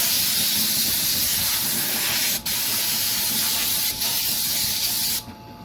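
Compressed air blasts steadily from a nozzle, cleaning out the pulley of a mill stand, a loud continuous hiss with two brief dips before it stops near the end.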